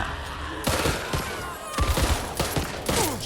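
Gunfire from the zombie shooter Back 4 Blood: a dense burst of rapid shots that breaks off, then several louder, close volleys of automatic fire with short pauses between them.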